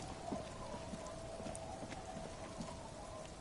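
Steady rain in the video game Disco Elysium, falling near the fisherman shacks late at night, a dense even patter of drops that runs evenly throughout with scattered small taps.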